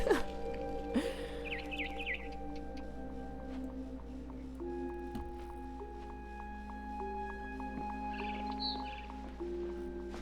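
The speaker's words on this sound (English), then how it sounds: "Then I heard chirping outside my window." In the video game What Remains of Edith Finch, a bird outside a window gives short bursts of high chirps, one near the start and another near the end, over sustained tonal game ambience.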